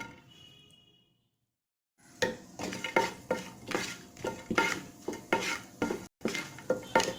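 Raisins, cashews and almonds are stirred in a pan for carrot halwa: after two quiet seconds, a regular run of utensil scrapes and clinks against the pan, close and distinct, over a soft sizzle.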